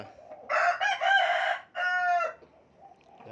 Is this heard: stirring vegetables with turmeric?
no